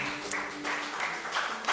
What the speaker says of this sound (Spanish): Dele un fuerte aplauso al Señor, amado hermano.